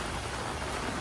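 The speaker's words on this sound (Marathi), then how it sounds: "जुलैच्या नंतर पहिल्यांदा इतक्या वर्षानंतर एवढा पाऊस पडला आहे" Heavy monsoon rain pours down in Mumbai as a dense, loud, unbroken hiss of rainfall with no pauses.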